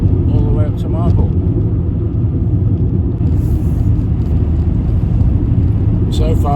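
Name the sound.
VW Golf MK3 car driving on road at 50 mph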